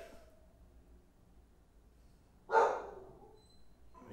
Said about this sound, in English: I apologize if you hear the dog in the background.